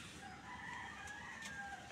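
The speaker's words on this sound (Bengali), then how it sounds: "ওই যে মোরগ ডাকতেছে, খুঁজতেছে যে কোথায় ডাকতেছে।" A rooster crows somewhere in the distance, a faint, drawn-out call over quiet background hush with no talking.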